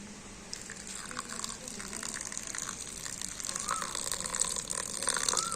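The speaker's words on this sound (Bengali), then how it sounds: "তো দেখুন, এইভাবে করে জলটা দিতে হবে, খুব বেশি জল দেওয়া যাবে না।" Hot water is poured onto drained sago (tapioca) pearls in a bowl, making a soft, steady trickle and splash that runs continuously at low volume.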